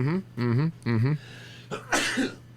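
A single sharp sneeze bursts out near the end, following a few short voiced vocal sounds, close and fairly loud.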